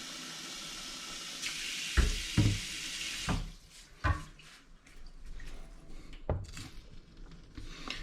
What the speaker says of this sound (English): I'm just going to add water in the sink here